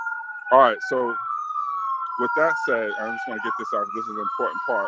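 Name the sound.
ambulance siren passing outside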